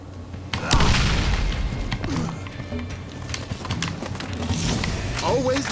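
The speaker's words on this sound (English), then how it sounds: "I'm actually going to bypass the spider ants here and just grenade up here." In Borderlands, a grenade goes off with a dull booming blast, followed by rumbling gunfire and game effects while someone talks over the action throughout.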